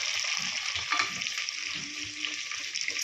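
Onions frying in foaming coconut oil, a steady bright sizzle with scattered crackles and soft stirring scrapes, close and continuous throughout.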